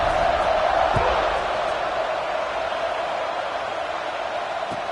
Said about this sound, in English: this crowd now ready to get behind them